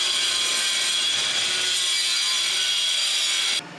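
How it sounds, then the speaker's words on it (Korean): A hand grinder cuts a 100mm pipe at a building site, giving a loud, steady, close grinding whine that ends abruptly just before the clip finishes. "핸드그라인드로 잘라줍니다"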